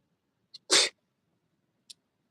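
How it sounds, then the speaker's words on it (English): A single sharp sneeze, preceded and followed by faint brief clicks, in an otherwise quiet room. "I've been sneezing a lot"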